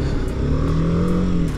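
A BMW G310R motorcycle engine pulls steadily under acceleration, with a rising tone held close and loud over a continuous road-like rumble.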